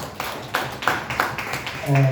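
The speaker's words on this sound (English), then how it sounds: "Let's give him a round of applause" Audience at a Motswako book launch giving a round of applause for Prof. Mokoro, scattered claps heard faintly under ongoing speech with a few sharper hand strikes.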